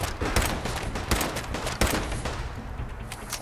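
Gunfire in the video game Fallout 4: rapid bursts of loud shots with a few heavier booming hits, crowded together over a short stretch with no speech.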